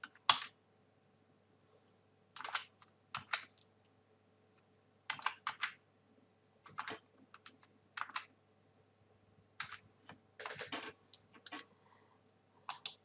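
Keys on a computer keyboard being typed as a Wii MAC address is entered, heard as close, crisp bursts of rapid clicking separated by short pauses over about thirteen seconds, with no voices.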